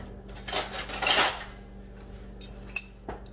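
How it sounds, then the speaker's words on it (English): A metal fork clinks and scrapes against a glass jar of jalapeños in a home kitchen, a cluster of close rattling taps followed by a few sharper isolated clicks. "I'm gonna get a fork and put the rest in there"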